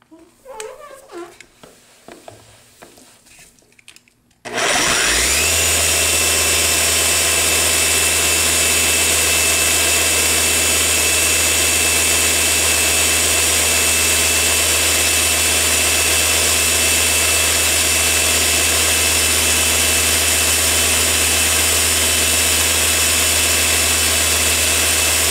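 A Flex forced action polisher runs at speed 6, its highest setting, on paint under medium pressure, starting abruptly after some quieter handling noise, then holding a loud, steady, high-pitched whir with a deep hum for about twenty seconds.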